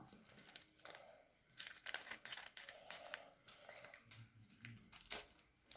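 A package is cut open in close, quiet bursts of crinkling and snipping, with plastic wrap rustling and tearing in an irregular rhythm and no talk.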